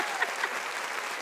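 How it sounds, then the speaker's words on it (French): Studio audience applause on a French talk show, a short spell of steady clapping with a few crisp individual claps near the start, moderately soft and free of speech. "Applaudissements, s'il vous plaît."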